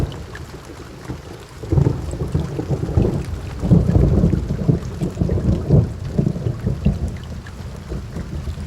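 Heavy rain with rolling thunder on a lakeside fjord outdoors, a dense low rumble swelling and fading in waves over steady patter, fairly loud and close, with no voices.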